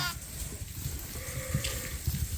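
A flock of sheep on a farm, with ewes and their lambs close by, gives faint, scattered bleats over a steady background murmur of animals and outdoor noise.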